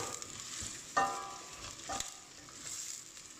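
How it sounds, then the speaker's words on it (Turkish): Steady sizzle of chopped onions frying in hot oil for a pepper stew, with a couple of brief clinks of stirring over the continuous crackle. "Yağın üzerine şimdi onu ekliyorum. Ve soğanlarımın diriliğe gidene kadar kavurmaya başlıyorum."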